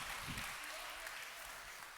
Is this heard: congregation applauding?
yes